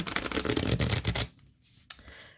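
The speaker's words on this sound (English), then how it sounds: "I'll have to think about that as I'm shuffling" A well-used tarot deck is shuffled by hand in a quick, close, papery riffle that stops after about a second, followed by quiet and a single soft snap of the cards.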